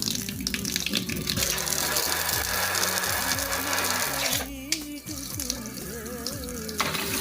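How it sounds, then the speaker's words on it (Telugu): Water runs continuously from a kitchen sink tap with a four-way spray outlet, a steady splashing gush over a low mechanical whir, with brief shifts in the flow. "4 వైపులా కూడా వాటర్ వస్తుంది"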